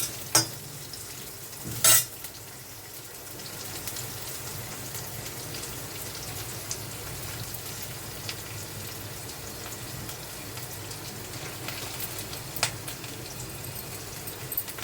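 Onions fry in a pan for an Andhra-style buttermilk curry. An even crackling sizzle holds steady throughout, with a couple of louder knocks or scrapes early on and occasional ticks, and no voices.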